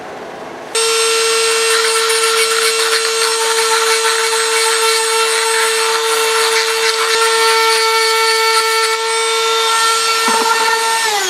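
Dremel rotary tool grinding hardened glue out of a broken Harbor Freight screwdriver, a loud high-pitched steady whine that starts abruptly and holds constant, close up, with no talk.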